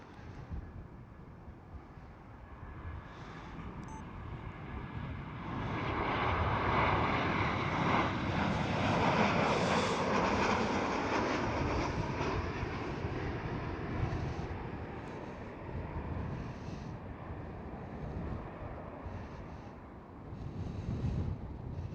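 A Ryanair airliner passing at Amsterdam Schiphol, a broad roaring engine rumble that swells through the middle and slowly fades, with wind buffeting the microphone throughout.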